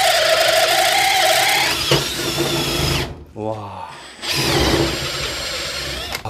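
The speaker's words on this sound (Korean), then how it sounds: "금방 이제 이렇게 기존 18V로도 작업을 해봤는데, 와, 일단 뭐 뚫는데 크게 무리는 없었어요" Makita 40V XGT cordless drill boring into wood during a woodworking test: a loud, continuous whirring grind that breaks off briefly midway, with a short exclamation from a voice, then resumes at full power.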